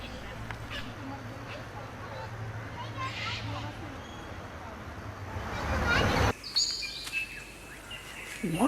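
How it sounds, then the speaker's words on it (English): A male superb lyrebird calls in southern Australia during its May breeding-season display. A noisy, murmuring background gives way to clear, bright whistled notes and chirps in the last few seconds. "The superb lyrebird of Southern Australia."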